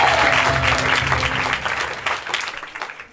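Audience applause at an improv theatre show in Paris, loud and dense at first, then thinning into scattered claps as it fades over a few seconds.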